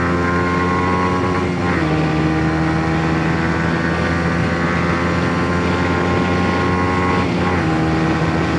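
A Kawasaki Ninja 125 motorcycle accelerates toward top speed, its engine droning loud and steady with rising harmonic tones, two brief dips as gears shift, and heavy wind roar throughout.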